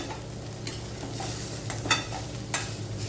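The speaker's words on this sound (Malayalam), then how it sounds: "കുറച്ച് കറി ലീവ്സ് ഇട്ട് കൊടുക്കുക." Curry leaves hitting hot oil with fried coconut for a Kerala jackfruit erissery, giving a steady close sizzle broken by a few brief scraping stirs of a spoon in the pan.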